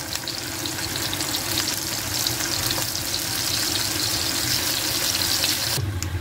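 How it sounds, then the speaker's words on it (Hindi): Large-cut pieces from 400 grams of paneer shallow fry in a pan, giving a steady, close, even sizzle that holds throughout with no talking. "पहले इसको हमने शैलो फ्राई करना है"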